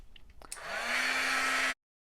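A heat tool whirs up and blows steadily for about a second to melt embossing powder on a Halloween napkin card, a loud airy roar with a rising hum, then cuts off abruptly into silence.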